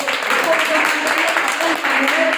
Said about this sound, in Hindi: ओके, तालियां